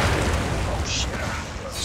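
Grenade blasts in the video game The Evil Within thump and rumble with heavy low booms layered under a player's talking, the explosions dense and close across the moment.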